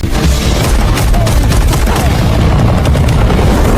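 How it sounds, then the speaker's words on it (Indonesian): Rapid bursts of gunfire from a helicopter crackle over a dense, loud background rumble, with booming impacts mixed in. "tiba-tiba sebuah helikopter muncul dan langsung melepaskan tembakan ke arah mereka"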